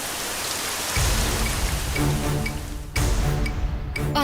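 Heavy rain pours down steadily as it approaches, a dense, loud hiss with a deeper roar that swells twice, close and continuous with no talk.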